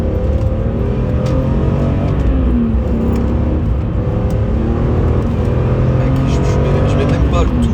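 A BMW M3 E46 engine roars continuously at part throttle from inside the car, a loud, steady droning rumble with slight pitch swells throughout.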